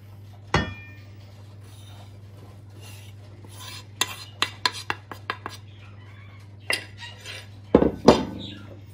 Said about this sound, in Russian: И замешиваем тесто сначала лопаткой